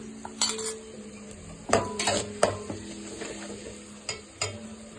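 A green chili, coriander and mint paste fries in a pan with a steady low sizzle, broken by several sharp clinks and scrapes of a metal spoon stirring against the pan.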